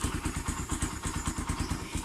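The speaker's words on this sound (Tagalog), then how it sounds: "napakaganda pa talaga ng tunog ng motorsiklo na to" Rusi Raider 150 carbureted motorcycle engine running steadily, a close, rapid, even thumping idle with clattery mechanical ticks, heard alone.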